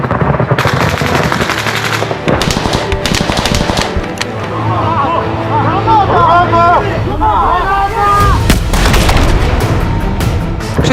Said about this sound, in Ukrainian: Кулемет.